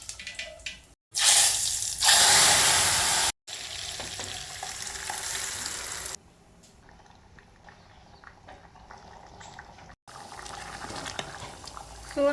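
A vegetable curry is tempered in hot oil in a home kitchen: a loud burst of sizzling hits as it goes in, then settles into quieter frying and stirring, with a few short pauses.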